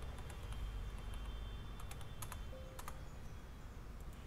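Quiet, soft keystrokes on a computer keyboard, a few scattered taps over a steady low background hum, with no talk.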